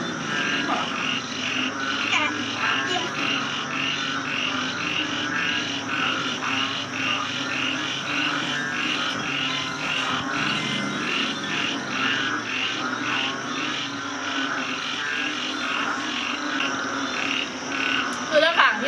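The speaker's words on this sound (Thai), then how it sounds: "ฟังเสียงอึ่งอ่างนะะรอไปพังๆด้วยนะคะ" Toads croak outdoors at night in a dense, steady chorus of rapid, pulsing calls that repeat in a regular rhythm, loud and close, with no other sound above them.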